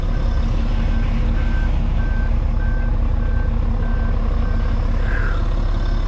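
Steady backup beeps pulse from a reversing truck in a snowy yard, repeating evenly over a constant loud engine drone.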